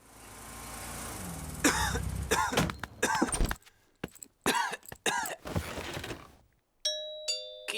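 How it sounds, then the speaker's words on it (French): Doctor Brown Bear in the Peppa Pig cartoon coughs several times in a row, in loud, close, raspy bursts with short pauses between them, followed by a bright ding-dong doorbell. "Voilà que le docteur a attrapé la toux de Pedro maintenant."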